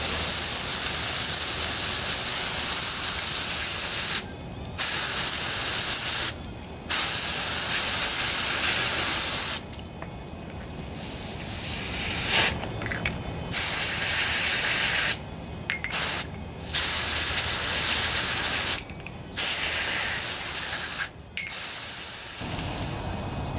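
Carburetor cleaner sprays onto the carburetor of a John Deere 14PB lawnmower in a long series of close, loud hissing blasts. Short pauses break up the spraying, and there is no talk.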